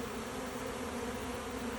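A swarm of honey bees buzzes around a box, a steady layered drone without a break, moderately quiet and close.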